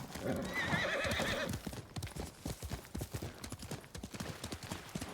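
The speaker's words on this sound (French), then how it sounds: "Donc on va y aller à cheval." Hooves clip-clop in a quick galloping rhythm from a horse in the video game Ghost of Tsushima, opening with a neigh, close and clear.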